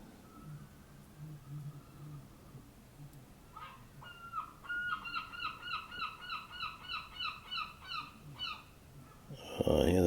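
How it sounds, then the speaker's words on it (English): Seagulls call out on a beach in a quick run of about a dozen loud, evenly spaced cries that come after a quieter stretch of low background sound. "Oh yeah, those seagulls go."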